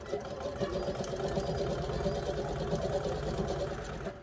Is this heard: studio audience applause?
no